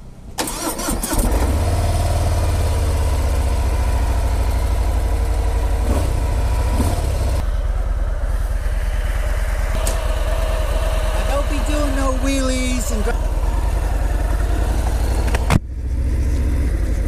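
A 2018 Harley-Davidson Fat Bob motorcycle with 107 engine and stock exhaust starts and settles into a steady, loud idle with a low rumble, a few brief blips and clanks over it.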